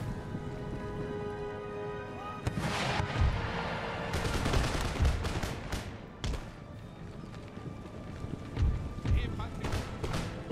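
Musket volleys crack across an Empire: Total War battlefield, starting with a ragged volley and followed by scattered sharp shots and further bursts, with distant battle noise and talk running over it.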